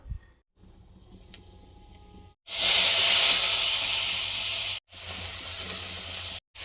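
Pasta boiling in water with tomato, cabbage, carrot and salt, heard as a loud, steady rushing hiss of bubbling and steam that starts abruptly after a quiet moment and runs in long unbroken stretches.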